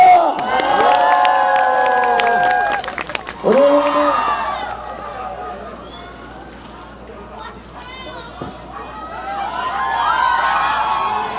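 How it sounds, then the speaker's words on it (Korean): A crowd at an outdoor presidential election rally in Daejeon and Chungcheong roars with loud cheers and shouts, voices rising together in a dense swell that dips, then builds again; an amplified voice speaks over the crowd at points. "동의하시면 커다란 박수와 함성 부탁드리겠습니다."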